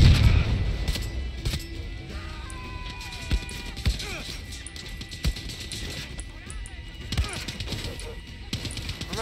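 Gunfire aimed at the player in the video game Far Cry 6: scattered sharp shots and impacts crack out at irregular intervals over a busy game backdrop, with a voice speaking in between.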